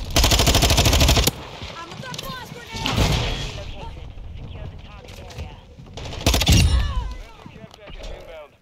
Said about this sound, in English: An LMG is just unloading.